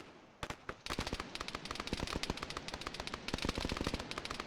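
Turret machine gun fire from a battle in the Arma game, loud rapid bursts with short gaps, repeating steadily and close.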